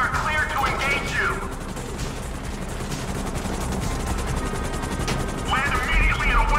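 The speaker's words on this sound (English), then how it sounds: "आइए जेटी का हेलीकॉप्टर आ रहा है।" Helicopter rotor and engine in a GTA 5 mission, a steady loud chopping roar throughout, with bursts of gunfire and radio-style voices at the start and end.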